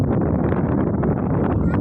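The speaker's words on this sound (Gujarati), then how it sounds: "તો મિત્રો, અહીંયા પવન બહુ જ આવે છે." Strong outdoor wind buffets the microphone, producing a loud, constant low rumble and flutter that fills the whole short stretch.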